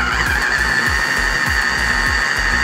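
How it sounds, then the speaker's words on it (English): A food processor mixes a red wine and shallot butter, its motor giving a loud steady whine with a pulsing low chug as the contents churn, close and continuous. "if you want to buy a food processor, this is the one to get"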